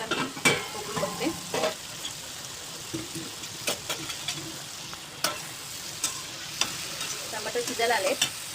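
Tomatoes cook in a pan for shahi paneer, giving a soft, steady sizzle with scattered clinks and scraping stir strokes, close and moderately quiet, with no talking.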